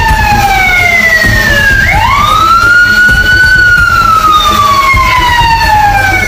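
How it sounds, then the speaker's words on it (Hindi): Police siren mounted on a GPS-equipped surveillance drone in Bengaluru: a loud, close, wailing tone that drops, jumps back up sharply, then slowly glides downward again over a steady background hum. "इस ड्रोन के साथ पुलिस का एक सायरन भी जोड़ा गया है।"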